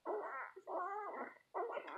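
Newborn puppies whimper and whine close up, three quick wavering cries in a row with tiny pauses between, high-pitched and alone.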